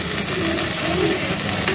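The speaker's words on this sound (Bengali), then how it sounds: "দেখো মাংসটা কষানো হচ্ছে" Meat being stir-fried in a pan while jackfruit seeds are cooked, a steady close sizzle with scraping stir sounds, continuous and fairly loud with no talking.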